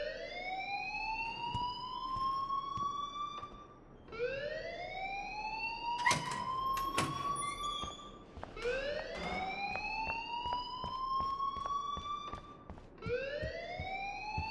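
A fire alarm blares in the video game Life is Strange, a wailing tone that sweeps upward and holds in repeated cycles of about four seconds, loud and steady, with a few sharp electronic clicks partway through.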